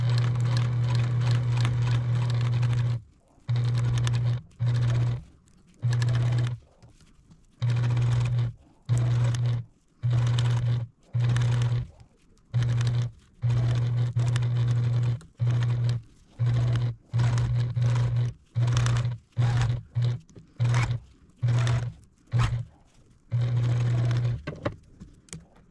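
A sewing machine stitches a fruit-themed potholder with red thread, its loud steady hum running in bursts of a second or two, broken by frequent short stops as the fabric is guided and turned.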